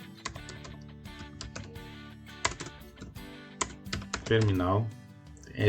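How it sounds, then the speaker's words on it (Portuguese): Fast, close clicking of keys on a computer keyboard comes in bursts of rapid taps, with someone talking over part of it. "Você vai digitar terminal"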